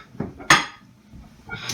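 Ceramic plates being taken out and set down on a kitchen counter, a couple of clattering knocks with one sharp clink, close and brief.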